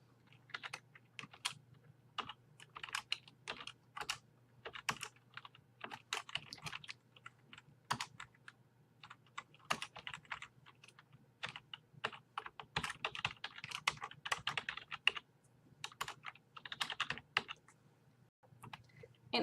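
Rapid typing on a computer keyboard, irregular bursts of sharp clicks and clacks running for nearly twenty seconds, close and fairly quiet with no voices.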